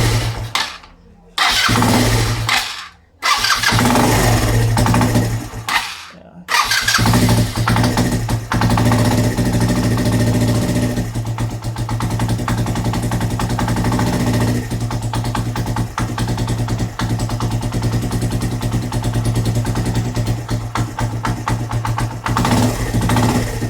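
A motorcycle engine, one with trouble holding an idle, cranks with a few short bursts, then catches and settles into a loud, steady, close idle that runs on alone.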